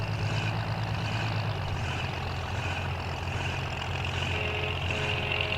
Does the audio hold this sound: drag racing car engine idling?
yes